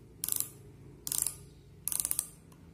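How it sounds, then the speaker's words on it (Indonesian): A mechanical micrometer's ratchet thimble is turned three times against a workpiece, giving three separate bursts of quick dry clicking, each lasting about a quarter second, close and clear with no talking. "Setelah menempel, kita putar ratchet"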